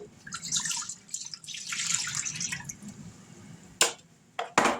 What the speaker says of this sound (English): All right, we're going to pour this in.